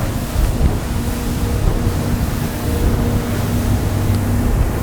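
Waves and choppy water pound a Zodiac X10 boat during a sea trial off Annapolis, a loud continuous rush of surf and hull slap mixed with heavy wind buffeting the microphone.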